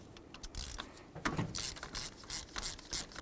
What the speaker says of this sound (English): I'm going to use a nice long spark plug socket that looks like this. Right in there. We'll remove the spark plug,